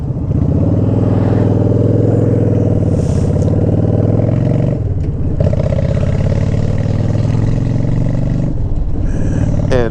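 Honda Shadow motorcycle cruising a country road gives a loud, steady, close engine drone with a deep rumbling tone and brief shifts in pitch as it changes speed.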